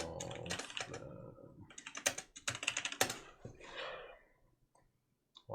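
Rapid bursts of computer keyboard typing while adding copy-paste to Blueprints, clicking in quick irregular runs with short pauses, close and fairly loud, then tapering into near silence at the end.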